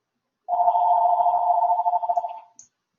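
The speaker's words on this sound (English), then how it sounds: "and just ignore the phone." A telephone rings during a classroom lecture, one steady electronic tone lasting about two seconds with a warbling edge, fairly loud and close, with no talking over it.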